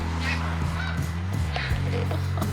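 A flock of birds calls among the dunes of Cape Henlopen State Park, Delaware: repeated loud, close honking cries overlap one another above a steady outdoor background.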